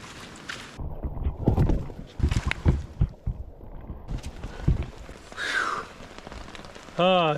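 Steady rain falls outdoors with a continuous close patter, while a voice is heard intermittently over it.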